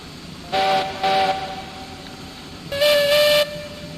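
A steam train whistle in an online railroad video game sounds two short blasts and then one longer blast, clear and tonal over a low rumble, with no talking.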